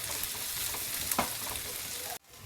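Onion and ginger frying in a pan for chicken sambar, a close, steady hiss of sizzling oil with faint stirring scrapes that stops abruptly near the end.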